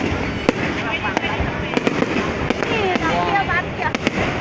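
Fireworks go off near a bridge in a string of sharp, loud bangs and crackles at irregular intervals, with a busy outdoor crowd and people talking over the blasts.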